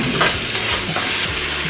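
Small cubes of pork frying with onions in a pan for an Indian-style curry, a loud, steady sizzle with stirring scrapes running throughout.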